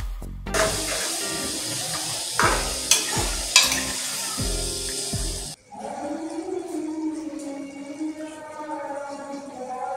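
Four medium tomato slices hit a hot pan with minced meat, setting off a loud sizzle and hiss with clattering stirring strokes, then settling into a quieter, bubbling fry.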